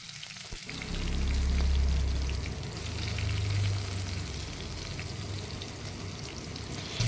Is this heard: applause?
no